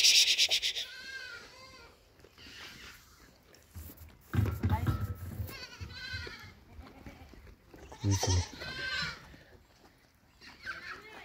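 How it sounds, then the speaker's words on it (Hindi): A goat on a small milking farm bleats repeatedly and loudly, with several wavering calls spread across the clip, alongside people talking in Hindi and other livestock nearby. "अरे वो बकरी पेंट खा रही है"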